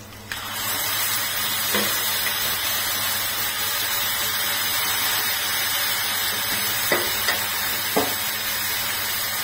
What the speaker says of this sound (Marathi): छान फोडणी तेल तिला टाकून घ्यायचे